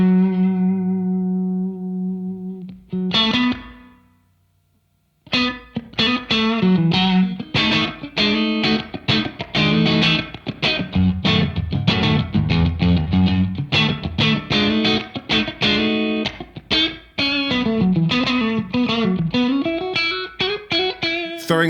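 A guitar played through a Keeley Hydra reverb pedal set to a small closet-sized room: a sustained opening note, a brief gap, then a busy run of picked notes and chords with a short, natural room ambience, close and loud.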